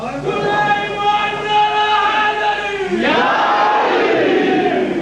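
A large crowd at a religious gathering chants slogans loudly in unison, voices rising and swelling together, with a fresh surge of shouting partway through.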